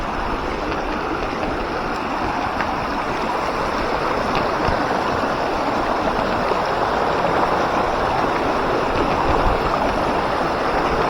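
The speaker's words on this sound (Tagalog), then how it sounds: "ang lakas pa ng ulan" Heavy rain pours down at a mining area during a bikepacking trip, a loud, continuous, broadband roar that stays constant throughout with no speech.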